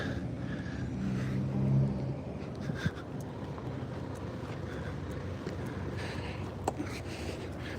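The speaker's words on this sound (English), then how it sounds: "We've got a semi-truck coming by. It's going to be a little bit loud." A semi-truck drives past along a road, a low rumbling roar that swells and then fades over several seconds, with wind buffeting the microphone throughout.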